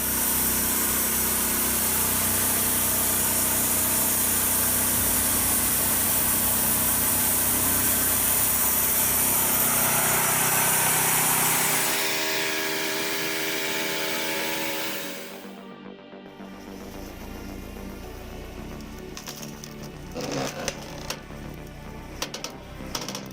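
A hydraulic firewood splitter's engine runs steadily with a loud, even drone for most of the stretch, then drops lower and quieter, followed by scattered knocks and clicks from the machine.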